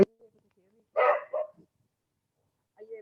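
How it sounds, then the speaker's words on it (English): A pet dog barks indoors in a short burst of two or three quick barks at moderate distance, with a brief voice at the end. "You probably hear my dog barking."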